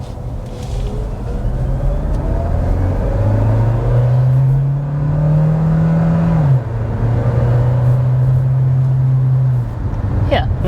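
A Kia Sportage hybrid SUV accelerating, with a loud, steady engine drone that climbs in pitch, briefly drops as it shifts, then holds as a smooth, sustained rumble.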